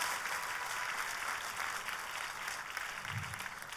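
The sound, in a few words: audience applause at a church service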